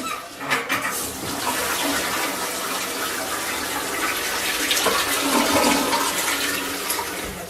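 Waste from a Thetford Porta Potti Curve portable toilet tank poured into a household toilet, a loud continuous rush and splash of water lasting several seconds, close and steady.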